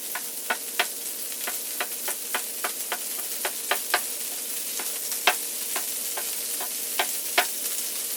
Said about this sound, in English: I'm going to use my spatula here to kind of break it up, kind of spread it out a little bit